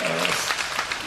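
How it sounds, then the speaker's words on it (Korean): Applause for the church's founder at a Reformed life theology forum, a dense patter of clapping from a congregation filling the short moment, with a voice briefly audible at the start. "설립자님에게 박수 보내는 거예요"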